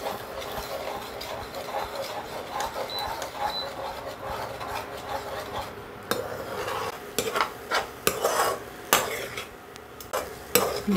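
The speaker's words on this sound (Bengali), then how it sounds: "ডিমটা ঝুরি ভাজা হয়ে গেছে" Four eggs scrambled and fried in a pan, a soft, steady sizzle with spatula stirring that grows into sharper, louder scraping clacks toward the end, close by with no talk.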